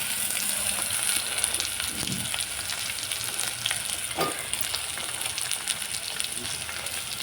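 Cauliflower, carrots and other vegetables fry in a pan with a loud, continuous crackling sizzle, broken by a couple of brief stirring scrapes.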